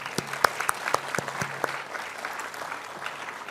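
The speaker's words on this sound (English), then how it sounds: "Huge round of applause again." Audience applause at an international engineering conference, scattered claps rising into a steady mid-level round that continues evenly to the end.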